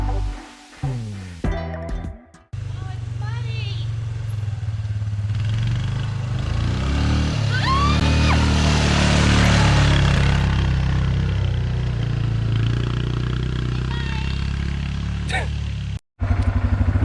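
A vehicle engine hums steadily while driving through rocky hills, a constant low drone under close, continuous talking, with a short burst of other sounds at the start.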